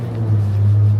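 A loud car passes through a residential neighborhood in New York City, a strong low engine rumble close by that swells slightly over a brief second.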